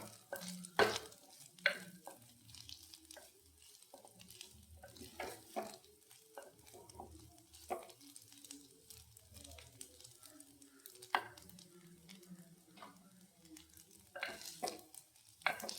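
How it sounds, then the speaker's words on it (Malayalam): A spoon stirs onion rice in a frying pan, with soft sizzling under a string of separate scraping strokes heard close up and at an uneven pace. "നല്ലോണം ഇളക്കി ഇങ്ങനെ"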